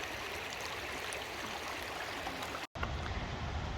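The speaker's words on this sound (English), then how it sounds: "the river turns into a waterfall and falls down this beautiful ravine" Evolution Creek rushes along the John Muir Trail where it drops as a waterfall into a ravine, a continuous broadband roar of flowing water with a short break near the end.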